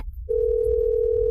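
A telephone dial tone sounds while a call is being placed, cutting in after a brief quiet moment as a single steady pure hum that holds loud and unbroken to the end, with no one talking.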